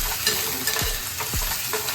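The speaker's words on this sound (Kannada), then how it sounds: "ಇಲ್ಲಿ ನಾನು ಕಡಲೆಬೇಳೆ ಮತ್ತು ಉದ್ದಿನಬೇಳೆನ ಹಾಕ್ಕೊತಾ ಇದ್ದೀನಿ. ಇದನ್ನೆಲ್ಲ ಚೆನ್ನಾಗಿ ಫ್ರೈ ಮಾಡೋಣ." Chana dal and urad dal fry in hot oil with a constant close hiss and crackle, broken by a couple of short scrapes from stirring. No voices are heard.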